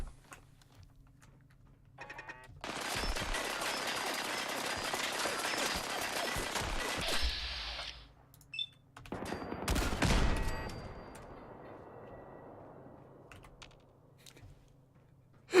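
A cannon fired indoors in the video game Fallout 4 gives a long, harsh roaring blast that cuts off abruptly, then a second burst that fades into a rumbling tail before quiet returns.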